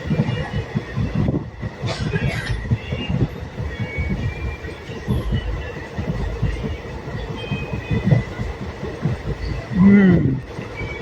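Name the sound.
train running on rails, Veraval to Bhavnagar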